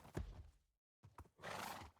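A donkey in Minecraft braying and snorting, two short bursts separated by a brief silence, ending in a harsh drawn-out whinny-like bray, faint overall.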